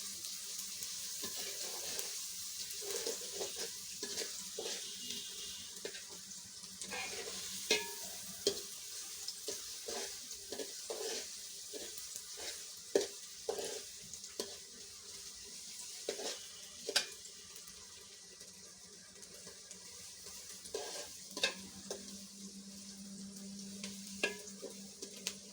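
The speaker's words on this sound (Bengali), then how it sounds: "পেঁয়াজ কুচি দিয়ে আমি নাড়াচাড়া করতে থাকবো" Chopped onion fries in a pan, a low, steady sizzle with repeated soft clicks and scrapes of stirring spread across a long, fairly quiet stretch.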